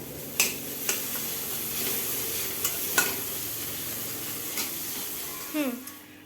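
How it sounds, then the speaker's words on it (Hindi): Vegetables frying in a pan with iodized salt, a steady soft sizzle broken by several sharp spoon taps against the pan and a brief voice near the end. "देखिए कई हल्का हल्का फ्राई होने लगा है"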